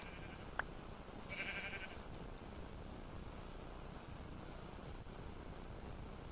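Sheep bleating in Minecraft on a plains biome, a single brief synthetic bleat near the start over a steady, noisy background with no other distinct sounds.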